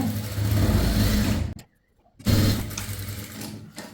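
A sewing machine stitches the side seam of a chudithar with a close, steady whir, stops abruptly for about half a second of silence, then starts up and runs on.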